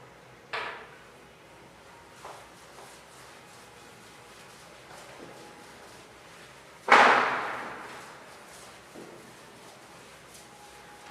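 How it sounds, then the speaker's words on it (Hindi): Firecrackers go off outside: two sharp, distant bangs, each with an echoing tail, well apart in an otherwise quiet indoor room. "बीच बीच में पटाखा का आवाज सुनाई दे रहा होगा"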